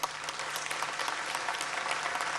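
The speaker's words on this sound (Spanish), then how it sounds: "no sé si me van a seguir aplaudiendo después" A large crowd applauds during an Argentine presidential speech on Industry Day, sustained, even clapping that fills the whole stretch, heard from some distance.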